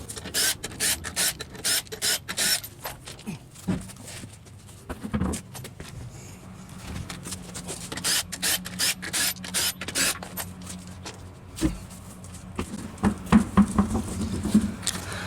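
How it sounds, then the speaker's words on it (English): An impact wrench zips off lug nuts on a 2004 Ford F-150 truck in rapid repeated bursts of rattling hammering, loud and close, with short pauses between runs. "I'm just going to use my impact to take the rest of them off, or all the way off"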